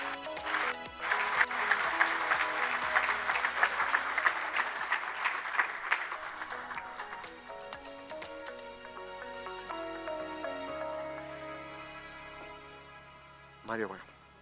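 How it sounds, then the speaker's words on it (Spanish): Audience applause at a corporate AI forum panel in Mexico, a strong burst of clapping from a crowd that swells and fades over several seconds while music plays underneath, ending with a brief rising tone. "Un fuerte aplauso para los 4, por favor."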